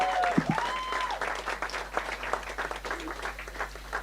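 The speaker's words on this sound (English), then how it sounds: "Give them once again a round of applause." Wedding guests applaud the couple, Brendon and Amy, as they arrive at the chuppah, a steady wash of clapping from a crowd that holds for several seconds with a brief tone and faint voices near the start.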